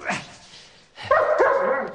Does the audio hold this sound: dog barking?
yes